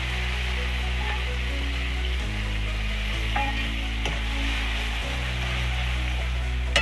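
Mustard-poppy paste and green chili added to fried tomatoes for a spicy ladyfinger curry, sizzling steadily in a pan while being stirred, with scraping clicks over a constant low hum.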